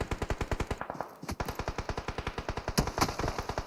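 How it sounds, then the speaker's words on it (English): Rapid automatic gunfire in the battle royale PUBG Mobile during a competitive scrim match, a steady stream of evenly spaced loud shots with a brief pause near the middle before the burst resumes. "Shots from Microboy."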